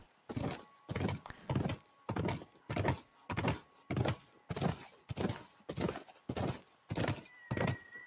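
Horse hooves in The Last of Us video game, a steady rhythmic series of about a dozen clip-clop hoofbeats, close and evenly spaced, with a faint whinny near the end.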